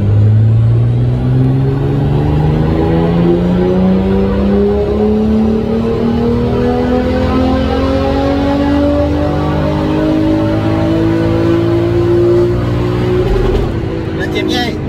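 A car engine revs from about 4000 rpm, its pitch climbing smoothly and steadily in one long, loud pull before backing off at the end.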